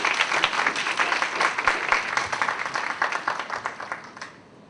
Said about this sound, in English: Let's give them a big round of applause for their active participation.